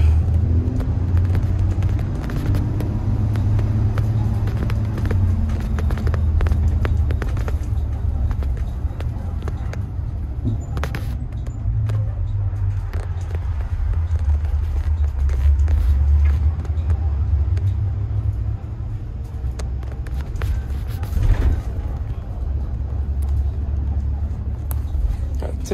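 Continuous low engine rumble and road noise heard from inside an old vehicle with brown vinyl seats, steady and droning throughout with faint rattles over the top.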